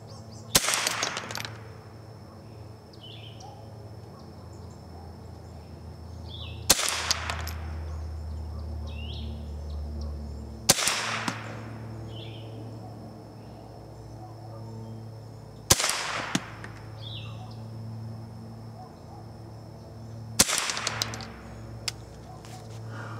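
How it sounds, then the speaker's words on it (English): A Remington 552 Speedmaster rifle fires five single shots at a target outdoors. Each report is loud and sharp, spaced roughly four to five seconds apart, with quiet ambience between them. "I'm going to shoot 5 shots into that target, see how well the little gun will perform."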